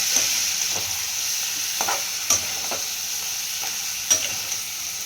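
Large prawns sizzle in gravy in a pan, a steady soft hiss broken by several scraping stirs and small utensil knocks, close and without talk.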